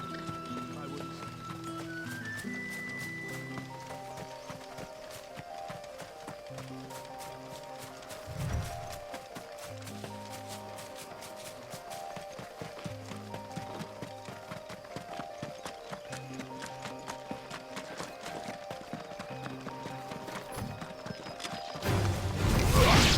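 Hooves clip-clopping at a steady trot as a mount is ridden in Final Fantasy XVI, mixed under game music and ambience, with a brief whinny-like burst, continuous and moderately loud.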